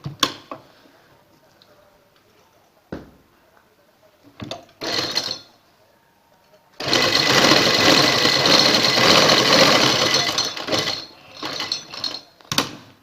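A sewing machine stitches maghazi piping onto a garment neckline: a few short whirring bursts, then one long steady mechanical run lasting several seconds, followed by more brief stitching spurts.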